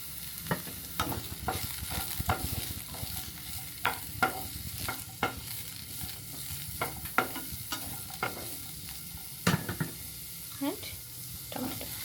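Chopped onion and beetroot fry in a pan for soup, a soft continuous sizzle broken by repeated sharp scrapes and taps of a spatula stirring at an uneven rhythm, close and fairly quiet.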